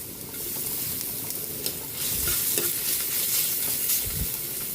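Garlic and ginger sautéing in a pan, a loud, steady, close sizzle with faint stirring scrapes and no talking.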